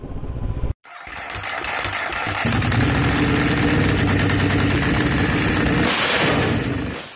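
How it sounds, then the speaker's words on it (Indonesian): A Honda CB500X adventure motorcycle engine starts up after a brief cutout, then settles into a steady, throaty idle that rumbles continuously before tapering at the end. "Honda CB500X. Ini adalah sebuah motor adventure daripada Honda."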